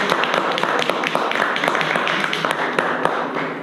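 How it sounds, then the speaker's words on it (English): An audience applauds at a talk on Black media, a dense, even patter of many hands clapping close by that holds for several seconds. "Let's give him a round of applause."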